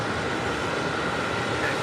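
An Air France Boeing 777-300ER jet departing from JFK produces a steady, broad roar with no break, heard from a distance across the airfield.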